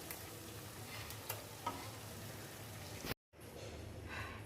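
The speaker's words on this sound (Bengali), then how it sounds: "এই মশলাটা একটু কষাবো।" Spice masala stirred and fried in a pan for egg biryani, a steady close sizzle with occasional scraping clicks from the spoon, broken by a brief cut to silence before the sizzling resumes.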